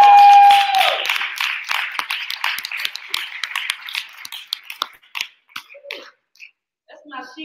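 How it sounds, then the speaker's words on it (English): Scattered claps for someone speaker at a live-streamed religious gathering, dense at first and then thinning into sparse, uneven hits. A steady tone sits underneath at the start, and voices come in near the end. "let's give this sister another round of applause"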